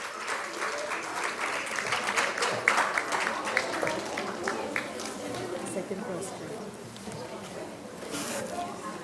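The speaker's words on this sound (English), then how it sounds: "A big round of applause for the winners" Audience applause for award winners at an art exhibition prize ceremony, a steady wash of clapping from a large crowd that carries through the whole stretch, with faint chatter mixed in.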